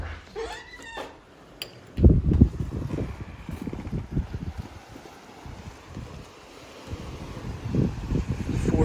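Wind gusting outside a remote Alaskan dry cabin on a snowy night, a steady low rumbling roar with rising and falling gusts, close to the microphone and unaccompanied by voices.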